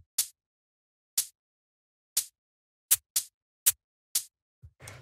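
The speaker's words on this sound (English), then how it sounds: "After that, we have these shakers," Shaker samples for a jazzy house beat sound alone as short, crisp, airy bursts, about eight hits in a loose, slightly uneven rhythm at a modest level with silence between.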